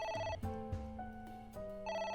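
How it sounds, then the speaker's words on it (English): A telephone rings in the video game AI: The Somnium Files, a bright, electronic, tonal ring in repeating bursts that stands alone and clear at moderate volume. "The phone is ringing."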